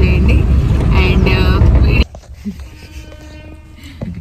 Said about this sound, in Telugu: గేట్ ట్రైన్ వస్తుందని చెప్పేసి గేట్ పడ్డది